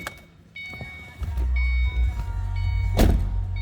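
Supercharged 2007 Saleen S281 Ford Mustang convertible engine cranks and catches, settling into a loud, steady run with a brief rev swell, after some faint clicks and chimes beforehand.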